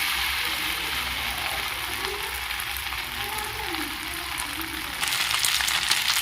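Pasta frying slowly in a pan for a spicy chicken pasta: a constant close sizzle and hiss holds steady throughout, growing slightly louder and brighter near the end.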